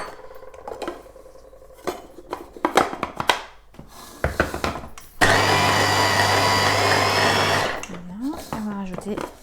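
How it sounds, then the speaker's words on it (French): Blender whirring wild garlic with olive oil, preceded by clattering utensils and kitchen knocks, then a loud steady motor roar for a few seconds that winds down into scraping sounds. "Donc, avec le reste de ma préparation, je vais mixer."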